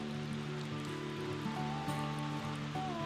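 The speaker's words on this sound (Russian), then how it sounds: "Наконец-то дождик пришел" Rain falls beside a river during salmon fishing in the USA, a soft continuous patter blending with the flowing water, with faint tonal hum running underneath.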